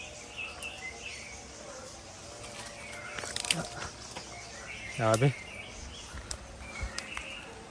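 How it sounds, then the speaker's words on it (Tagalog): Faint bird calls and chirps drift through outdoor forest ambience in the rural Philippines with insect buzz, while a nearby voice briefly exclaims partway through. "Daming huni ng ibon"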